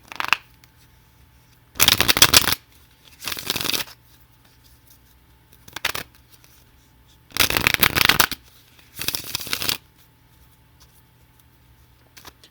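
Tarot, oracle and Superman playing cards are shuffled in four distinct riffling bursts, each lasting about a second, separated by quiet pauses with a faint soft tap between them.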